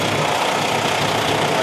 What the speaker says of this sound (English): That's why I've got the engine running at the minute.